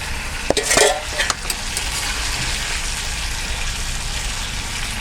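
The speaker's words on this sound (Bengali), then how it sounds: "মাছের মাথাগুলো দিয়ে দিচ্ছি, কারণ আগের থেকে তো ভাজা ছিল, এই জন্য এত কষানো লাগবে না" Pre-fried fish heads sauté in a pan for a thick fish curry. A loud, steady sizzle runs throughout, with a few sharp stirring scrapes and pan clatters near the start.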